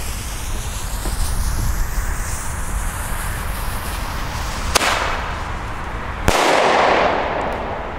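Two sharp bangs from Weco Flash Bang firecrackers, the second louder, cracking out over steady outdoor wind noise.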